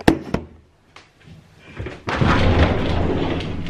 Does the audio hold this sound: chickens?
no